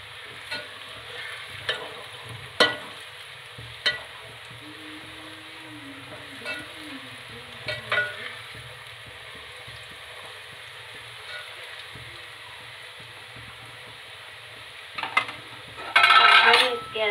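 Onions and cumin frying in a pan, a steady soft sizzle with intermittent stirring clinks of a spoon against metal, then a louder burst near the end as okra goes into the hot oil.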